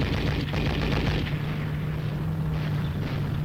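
Heavy automatic machine gun fire rumbles continuously in a tank warfare training film, a dense, loud, booming clatter of rapid shots with no talk over it.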